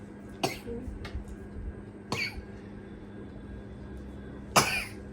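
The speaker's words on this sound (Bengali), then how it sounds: "এখন আর দিও না, কাশি উঠে গেছে।" A young child coughs in three short, sharp bursts spaced apart after blowing bubbles, the coughs close and loud against a quiet room background.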